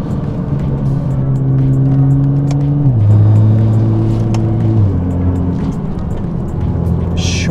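A car engine revs hard and steps up through its gears with rapid shifts of about 200 milliseconds, its pitch dropping abruptly at each change. The sound is loud, close and continuous.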